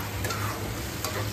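Spice paste for a spicy katla fish curry sizzling softly in a pan after a splash of water, a quiet, steady hiss with faint stirring ticks of the spoon.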